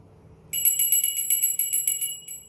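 A tiny bell tied to an animal's neck rings in a rapid, bright jingle of about a dozen quick tinkles, close and clear over near silence, ending with one last faint chime.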